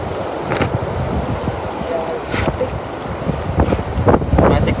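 Strong wind blowing outdoors at a cast-net fishing spot, buffeting a phone microphone with a constant rushing roar, while people talk over it.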